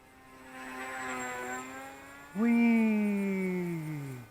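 Volantex Ranger G2, a 1200 mm wingspan electric FPV cruiser RC plane, buzzing overhead with a whining propeller motor whose pitch swells, then jumps louder and slides downward as it passes close.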